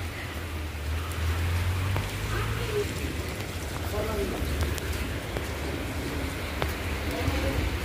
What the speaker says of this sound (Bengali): দেখেন কত বৃষ্টি পড়তেছে, অনবরত পানি পড়তেছে